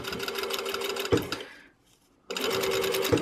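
A sewing machine stitches a ribbon on with red thread, running in a steady rapid rhythm, stopping briefly, then starting again close and clear.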